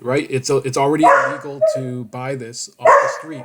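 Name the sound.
dog barking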